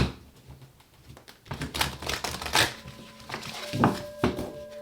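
A tarot deck is shuffled close by in uneven bursts of rapid papery clicks and flutters, with a few duller knocks as the cards settle.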